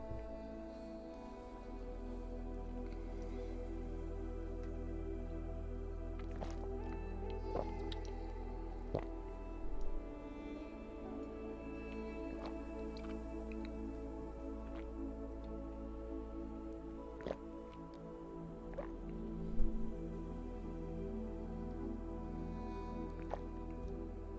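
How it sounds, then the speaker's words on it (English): Someone sips and swallows water close to the microphone: quiet, sparse wet gulps and small mouth clicks over a low steady background hum. "I'll drink a little bit of water and let you hear me drink it."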